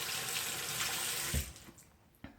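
Tap water runs steadily from a faucet into a sink during handwashing, loud and continuous, then cuts off abruptly partway through, leaving a couple of faint clicks and drips.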